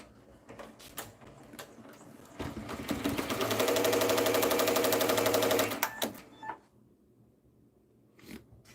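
An embroidery machine stitches in a fast, steady mechanical chatter for about three seconds, building up and then stopping abruptly, with a few short clicks and knocks around it; no one speaks.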